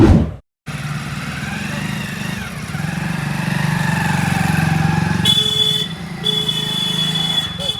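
A motorcycle engine drones steadily at close range with a low rumble, joined in the second half by a sustained, steady horn-like tone; a short silent gap falls near the start.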